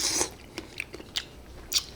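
Someone eats spaghetti with homemade meat sauce close to the mic, giving a few sharp bites and soft chewing sounds in an uneven rhythm.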